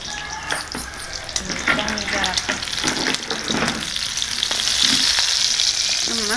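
Cooked rice fries and is stirred in a pan over heat in a Chhattisgarhi-style home kitchen, a close, steady sizzle with scraping stirs of the utensil throughout.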